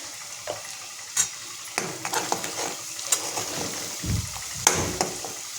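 Spices with turmeric and coriander powder sautéing in a pan, a soft sizzle under intermittent stirring scrapes and light clicks of a spoon against metal, close and fairly quiet, without talking.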